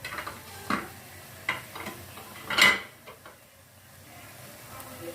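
Macaroni chaat is stirred together with cabbage, onion, tomato and capsicum in a pan, giving a few soft scraping and clinking strokes with light sizzling between them, fairly quiet and alone.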